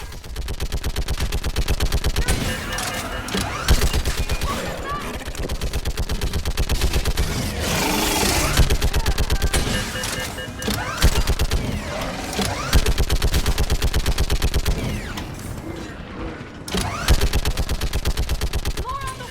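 A mounted gun in the video game Mass Effect 3 fires in long, rapid, relentless bursts, loud and close, with explosions and battle clatter mixed in and brief pauses between volleys.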